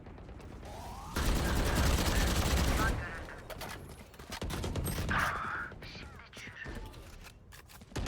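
Gunfire in the shooter game Valorant comes as a loud sustained burst of rapid automatic shots early on, then scattered shots and mechanical clicks as a match plays out, with speech mixed in.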